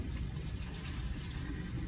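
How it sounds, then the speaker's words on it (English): Tap water runs steadily for hand washing in a home kitchen after handling raw hamburger, a continuous close gushing flow with no talk. "I wanna wash my hands because that raw hamburger"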